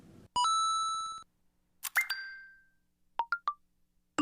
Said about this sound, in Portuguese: Eles são usados em notificações de smartphones para novas publicações, marcações, mensagens e outros avisos.